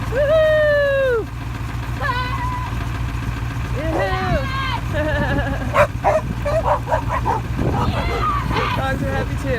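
Several dogs bark and yip excitedly, with some whining, over a low idling engine; people's voices mix in.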